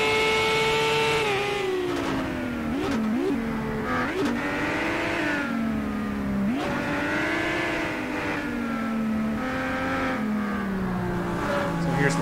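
A race car engine howls through a lap of the Shanghai International Circuit in a racing game, holding a steady high whine that dips and climbs again with each gear change and corner, close and constant throughout.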